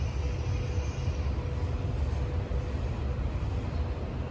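The D8660 high-speed train arriving at a station gives off a steady, loud rumbling rush that runs unbroken and even from start to finish, with no voices over it.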